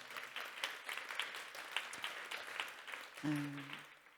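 Quiet applause from a conference audience, an even wash of clapping with a few sharper claps, and a short voice near the end.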